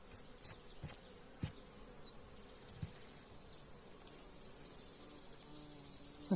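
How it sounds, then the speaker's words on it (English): Carpenter bee buzzing near an open beehive during queenless splits, a faint droning hum with a few sharp clicks and brief louder passes, no voices. "Carpenter bee."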